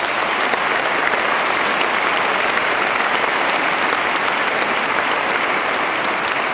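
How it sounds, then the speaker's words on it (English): A large crowd at a military academy ceremony claps steadily and evenly for several seconds, a dense, sustained wash of applause with no voices standing out. "Let's give a round of applause."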